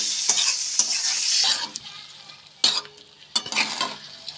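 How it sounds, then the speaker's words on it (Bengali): Prawns frying briefly in oil in a pan, bursts of loud bright sizzling punctuated by sharp scraping stirs, close and intermittent with quieter gaps between. "ওই তেলের মধ্যে চিংড়ি মাছগুলো দিয়ে ভেজে নেবো"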